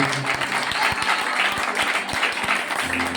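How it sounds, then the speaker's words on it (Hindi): A church congregation claps during a Christmas sermon by Pastor Gursewak, a dense sustained roar of many hands with a regular rhythmic beat running beneath it, loud and continuous, with faint voices mixed into the crowd noise. "हर स्थिति से हर हालातों से निकलकर हम परमेश्वर के पास आ चुके हैं ताली बजाएं।"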